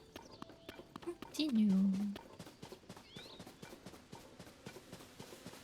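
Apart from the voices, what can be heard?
horse hooves clip-clopping in video game Zelda Tears of the Kingdom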